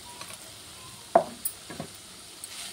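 A spoon stirs beetroot curry in a pan, giving a few scraping knocks against the metal over a low, faint sizzle, with no talk.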